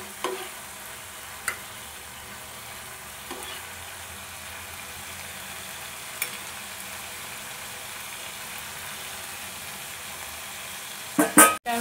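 Soybean kofta curry masala sizzling softly in a pan after a little water is added, a steady low frying hiss with a few stirring knocks and clatters toward the end.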